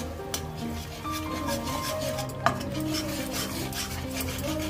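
Spice masala with Kashmiri chilli powder being sautéed for a fish curry, a close rasping scrape of a spatula against the pan over a low sizzle, with a couple of sharp clicks.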